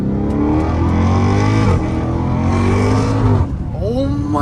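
Dodge Hellcat Redeye heard from inside, its engine revving loud and close in rising, falling sweeps, dipping as the tires slip and then climbing again, with a brief squeal near the end.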